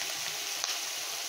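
Fish fat and fish oil sizzle in a kadai with turmeric while water cooks off, a close, even frying crackle with one small tap partway through and no voices.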